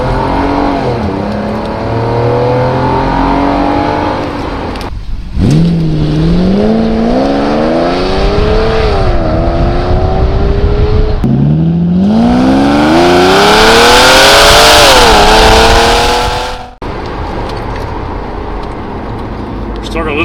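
A 1997 Mercedes SL 70 AMG, 720 Nm of torque, accelerates hard as its engine revs climb through successive gears, loud and close from inside the car, with a rushing roar at peak speed and voices talking along.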